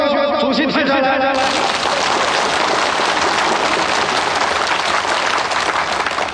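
Loud, dense applause fills a school assembly hall as a student is welcomed up to the platform, beginning after a brief moment of music and holding steady and close throughout.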